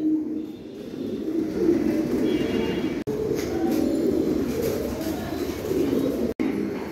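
Soft, steady cooing from Shouking pigeons on a farm fills the space, low murmuring calls repeating throughout with no talking, set against a faint hum.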